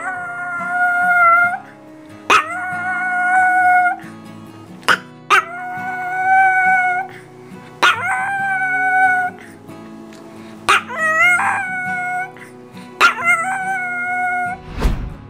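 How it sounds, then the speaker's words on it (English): A Chihuahua puppy howls in long, wavering wolf-like cries, several drawn-out howls in sequence with short breaks between, loud and close. "a Chihuahua puppy howls with such fervor that it resembles the majestic howl of a wolf"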